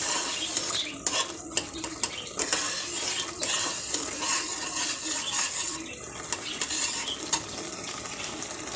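Boiled mangoes fry in a pan as sugar is stirred in, with a continuous sizzle under frequent clinking scrapes of a spoon against the metal pan, close and moderately loud, no voices.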